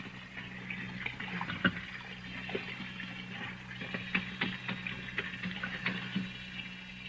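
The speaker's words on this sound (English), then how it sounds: "There's the sink. Some hot water." Hot water runs into a sink bowl as a radio drama sound effect. It is a continuous splashing flow with scattered clinks and knocks, fairly close and with no voices over it.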